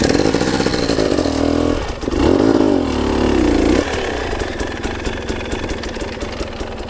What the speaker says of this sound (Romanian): Pornește-l, mă, și accelerează.